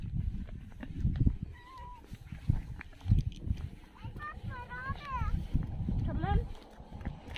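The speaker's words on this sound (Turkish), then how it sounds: "Miyavlıyor mu Enes?" A cat meows several times on the way to a market, short rising and falling calls heard up close amid footsteps and people talking nearby.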